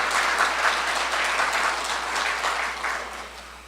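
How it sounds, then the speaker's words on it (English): An audience at a talk on Roosevelt gives a round of applause, a dense, loud wash of many hands clapping together that holds steady and then slowly tapers off, with no voices over it. "I think that deserves a round of applause."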